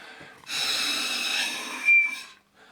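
A rush of air blows through a squeezed, restricted tube for about two seconds, ending in a brief thin whistle before fading out.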